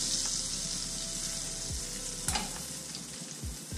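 A steak sears in a hot pan for Steak Diane, giving a continuous close, dense sizzle with a few soft clanks and shifts of the pan, no voices present.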